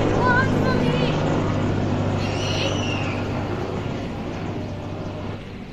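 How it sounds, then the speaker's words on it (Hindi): A helicopter flies overhead outdoors during an Independence Day gathering in India, giving a steady loud rotor drone throughout that slowly fades a little toward the end. "देखो एक एक हेलीकॉप्टर आई।"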